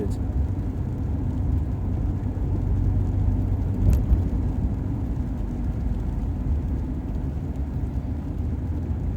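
A Saab 900i drives along twisting country lanes, its engine and road noise forming a loud, steady low rumble heard from inside the cabin.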